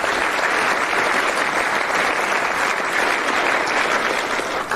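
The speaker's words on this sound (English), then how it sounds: "So please give those people a round of applause." A crowd at a high school football award ceremony gives a round of applause, an even, sustained roar of many hands clapping that holds steady throughout.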